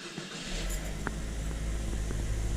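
A 2007 Mazda 3 engine starts up after a starter replacement, catching within half a second and settling into a steady, fairly quiet low idle hum with small irregular clicks and knocks.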